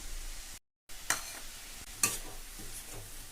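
Sautéed arai keerai spinach with salt and turmeric sizzling gently in a pan while a spoon stirs it, with two sharp scrapes against the pan and a brief silent gap near the start.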